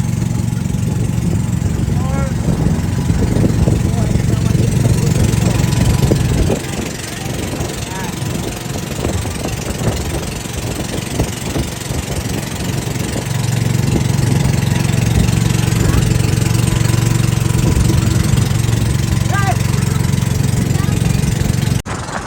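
Idling engine of the boat Sea Urchin 4, a steady low rumble that runs throughout, close and fairly loud, with a brief dip in the middle and faint voices over it.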